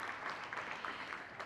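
An audience applauds at a summit session on AI for Good, a brief, steady burst of clapping from many hands at moderate level with no voices over it.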